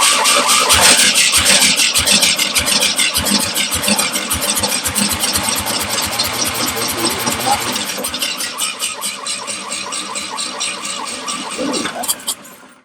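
A Fiat 126 engine cranks and catches, then runs with a rough, uneven throbbing rhythm that gradually settles before cutting out near the end, with voices talking over it throughout.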